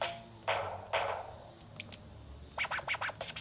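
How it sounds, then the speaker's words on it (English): DJ record scratching effect from a Nintendo 3DS sound app: a few slow, sweeping scratches open, then a quick run of short, choppy scratch strokes in rapid rhythm, up close and with no voices. "So we've got some DJ record scratching."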